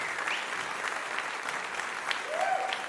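An audience at a DAV College convocation ceremony applauds to welcome a guest onto the stage, with dense, sustained clapping that fills the room at an even level.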